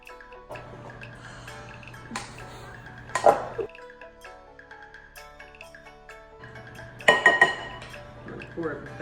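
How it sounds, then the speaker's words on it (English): Roasted cauliflower tossed with sauce on a foil tray, giving bursts of clinking utensil and foil scraping in two clear busy spells, with quieter gaps and a steady low hum underneath. "we're just gonna toss it all together and coat all of that cauliflower"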